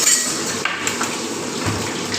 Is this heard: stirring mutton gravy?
yes